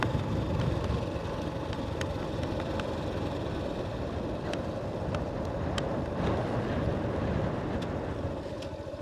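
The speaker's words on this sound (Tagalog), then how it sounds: "Hangin na nga eh." Continuous low wind rumble and buffeting over a steady road drone while riding a dark road in Bicol, Philippines, with faint ticking clicks scattered throughout, no voices.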